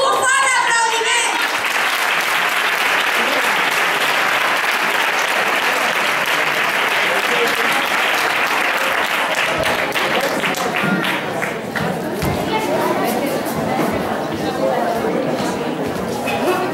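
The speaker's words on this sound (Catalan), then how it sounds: "Un fort aplaudiment!" A dense, sustained crowd applause at a school Christmas show for a third-grade class, loud and continuous throughout, with some chatter and shouts mixed into the clapping near the end.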